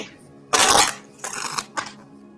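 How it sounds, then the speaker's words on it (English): Tarot cards being shuffled by hand in three bursts of crisp riffling and rustling, the first loudest, close up with no talk. "I don't know why people like to see the card shuffle live"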